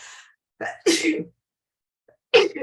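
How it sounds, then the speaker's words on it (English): A single close sneeze, preceded by quick sharp breaths, with short quiet pauses around it. "I'm gonna sneeze. Sneeze is impending."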